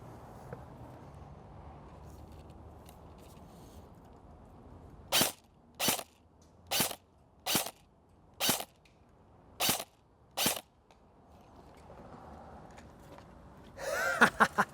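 Krytac Alpha CRB airsoft rifle firing single semi-auto shots at long range outdoors, seven sharp evenly spaced cracks against quiet ambient background, with a brief clattering burst at the end.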